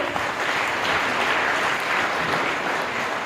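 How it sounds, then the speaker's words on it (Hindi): Sustained applause from an audience, dense and steady throughout without a break, loud and close with no voices. "आप लोग प्लीज़ एक बार ताली हो जाए इन सब के लिए"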